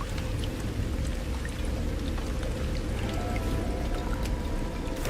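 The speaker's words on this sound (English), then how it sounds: "Prickly water sounds." Steady watery patter and drizzle in the game No Man's Sky, a continuous even wash of droplets at moderate level with scattered small ticks and no speech.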